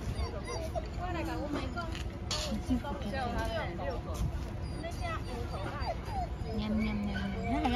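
A puppy gives short yips and a few whimpers among people chattering in a room, the small dog sounds brief and fairly close under the talk.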